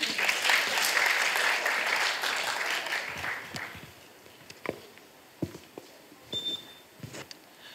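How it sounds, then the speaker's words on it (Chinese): Audience applause at a school presentation event, a burst of clapping that fills the first few seconds, then thins out into scattered claps and light knocks. "请大家掌声鼓励"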